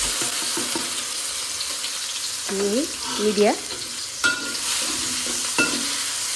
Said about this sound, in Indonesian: Waktunya kita goreng baksonya.